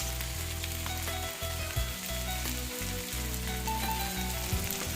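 Spicy chilli fish pieces frying in hot oil, a steady close crackling sizzle that continues throughout, with faint clinks and stirring underneath.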